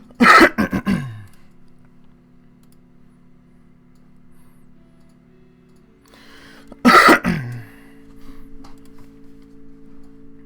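Two loud bursts of coughing and throat clearing, one at the start and another several seconds later, with a quiet steady hum and faint ticking in between.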